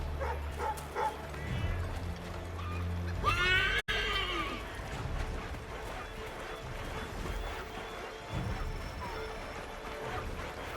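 A horse in Assassin's Creed III neighs and whinnies amid hoof clip-clops and game ambience, with a sharp cut partway through and some background voices.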